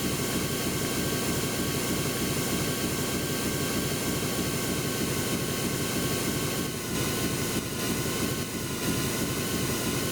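Small racing plane engine from the PS2 game Jet Ion GP, a steady droning whine with a pulsing low throb, sustained loud and close throughout with a few brief dips, no talking.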